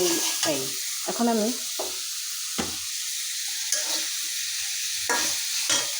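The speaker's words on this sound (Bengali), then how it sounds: "এভাবে নাড়া দিতে হবে, তা না হলে কিন্তু পুড়ে যেতে যাবে।" Bottle gourd leaves and stalks stirred in a hot pan, a scraping spoon making brief separate strokes over a soft background sizzle, close and fairly loud, with quiet pauses between strokes.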